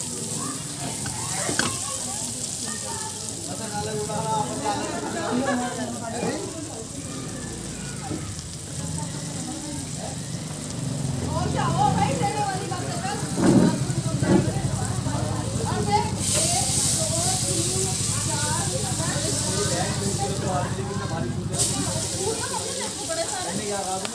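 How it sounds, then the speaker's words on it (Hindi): Vegetables fry in a pat of Amul butter for egg rolls at a Dehradun fast food stall, a steady loud sizzle and hiss running throughout beneath busy street noise. "ये एग रोल के लिए वेजिटेबल फ्राई करने वाले हैं, जिसमें इन्होंने अमूल बटर की एक टिक्की डाल दी है फ्राई करने के लिए"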